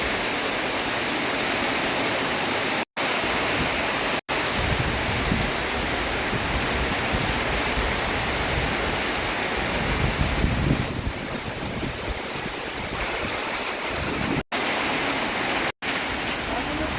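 Heavy rain in Purbachal keeps up a thick, steady wash of noise, with a few short dropouts and a slight change in tone partway through.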